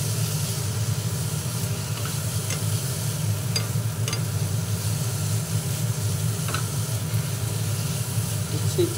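Squash chechki fries in a pan, stirred with a spoon: a continuous dense sizzle with a low hum beneath and occasional light scraping taps.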